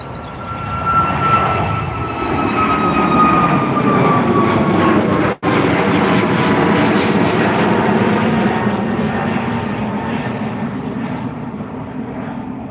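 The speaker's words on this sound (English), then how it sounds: "There it is, the MAX 8 heading over to Salzburg." A Ryanair Boeing 737 MAX 8 jet passes overhead at Dublin Airport, a loud steady engine roar with a slowly falling whine, sustained throughout.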